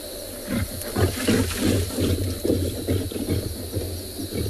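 Lions growl and roar in rough, repeated snarling bursts as they fight over a carcass out on the South African bush, moderately close, with a low background hum running underneath.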